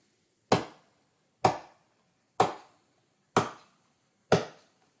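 Hands tap a steady medium-tempo beat, five crisp, evenly spaced slaps about a second apart, close and clear with silence between them.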